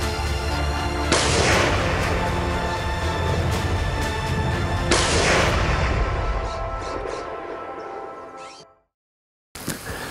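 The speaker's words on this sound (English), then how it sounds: "That was a nice long shot in some open country" A rifle shot fired at a wild boar in open country during a California hunt, with two loud, booming reports about four seconds apart, each followed by a long rolling echo that fades out.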